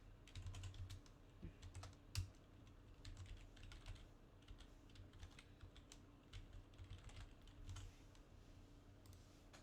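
Computer keyboard typing, rapid irregular clicks and clacks in bursts over a low steady background hum, quiet and close with no talking.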